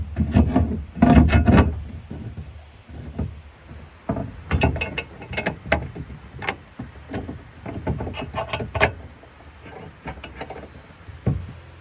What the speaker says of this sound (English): we'll thread in these long Allen bolts here. Just gotta put them in finger tight to begin with